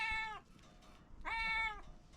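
A cat gives two clear, close meows, separated by a short pause, with nothing else audible in between.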